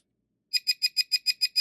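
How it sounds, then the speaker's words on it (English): A Racent 4x4 RC crawler's controller beeps at power-on, eight short, high electronic pips in a quick, even rhythm after a moment of silence, close and clear. "You get that annoying beep every time you turn something on."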